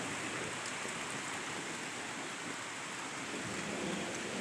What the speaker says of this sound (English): more or less this is nothing more than a thunder shower, if you will.